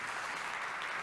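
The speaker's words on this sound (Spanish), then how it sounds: "así que otro aplauso para Benjamín, muy buena exposición" Applause from an audience at a business summit session on AI for small businesses, a steady dense wash of clapping that fills the whole short stretch with no voices over it.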